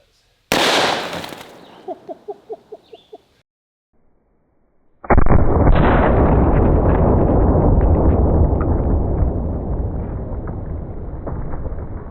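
A double-barrel 1911 in .45 ACP fires Norma monolithic hollow-point rounds into a watermelon outdoors: a sharp, loud blast followed by quick echoing pops, a short quiet stretch, then a long, dense rushing roar that slowly fades.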